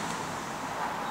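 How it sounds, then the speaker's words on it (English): Steady wash of road traffic from the A692 behind an embankment, a continuous broadband rumble with no distinct passing vehicles, fairly faint and distant throughout. "You can hear the vehicles right in the background"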